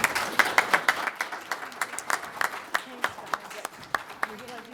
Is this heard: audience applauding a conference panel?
yes